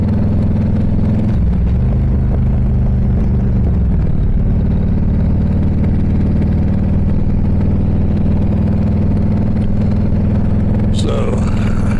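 A Harley-Davidson motorcycle engine with a baffle missing from its left exhaust pipe holds a steady, loud, low rumble throughout, with the pitch dipping briefly early on.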